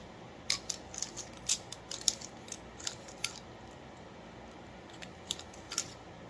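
A fold-out deburring tool scrapes burrs from the cut edge of a pipe in a plumbing job, giving a series of close, crisp scraping clicks in uneven bursts over quiet room noise, with no talking.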